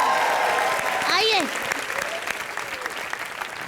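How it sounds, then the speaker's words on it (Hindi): Studio audience at a live Hindi comedy show bursts into loud, sustained applause and cheering, with a host calling out over the clapping as it gradually thins. "चलो तालियां बजाओ इसके लिए जोरदार"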